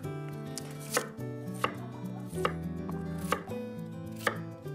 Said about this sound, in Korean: 무를 조금 두툼하게 감자랑 썰어주시면 될 것 같아요